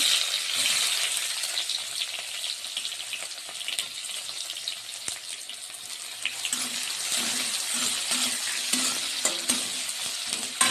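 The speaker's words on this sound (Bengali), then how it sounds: "তো পেঁয়াজটা আমার ভাজা হোক" Chopped onion frying in a pan for a home-style Bengali curry: a steady broadband sizzle runs throughout with occasional stirring scrapes, close and fairly loud, no voices.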